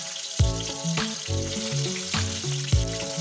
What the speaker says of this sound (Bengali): कड़ाईते परिमाण मतन सर्षे तेल गरम करे आमी भोला माछगुलोके तेलेर मध्ये भेजे निच्छि